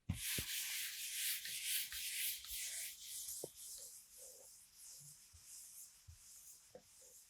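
Someone rubs writing off a classroom board with a duster, a soft, faint swishing of rapid back-and-forth strokes punctuated by a few light taps and knocks, with no talking.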